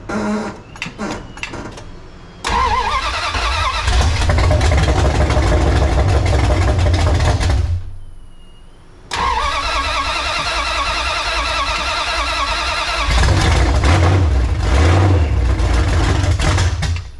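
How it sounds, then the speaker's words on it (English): A cold 1981 Dodge D150 pickup truck engine cranks with a few quick starter bursts, catches with a roar, then settles into a loud steady idle, briefly cuts out, and restarts into a rough, rumbling idle. "Let me go ahead and get it fired up for you guys. Let me show you how it's running and how it's idling."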